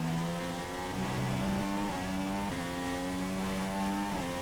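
A Formula 1 car engine from the F1 2016 racing game drones loudly and steadily through a qualifying lap at the Russian Grand Prix, with small shifts in pitch as the revs rise and dip, and no voices over it.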